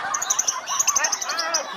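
A caged songbird being raised for singing contests chirps in quick, bright repeated notes close by, a steady rapid series of tweets filling the whole moment.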